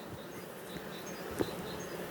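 Honeybees buzz faintly around an open hive frame stocked with pollen, a soft continuous hum with one brief louder pass near the microphone.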